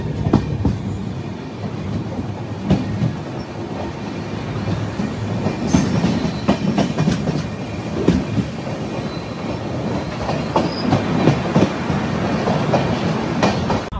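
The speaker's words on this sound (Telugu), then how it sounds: "చెంగల్పట్టుకి వచ్చింది బండి." Hamsafar Express rolling into Chengalpattu station, a steady rumble of wagons with rhythmic wheel clatter and occasional sharp squeals, sustained and close throughout.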